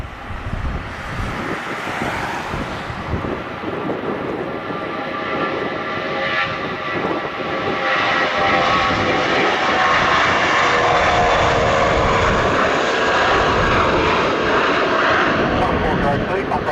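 Jetstar Airbus A320 jet engines spooling up on takeoff from runway 34 at Melbourne, a loud rising roar with a whining tone that swells and holds steady, while radio chatter runs beneath.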